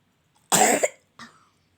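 Two coughs from one person indoors, a loud harsh burst followed a moment later by a shorter, softer one, close to the microphone against silence.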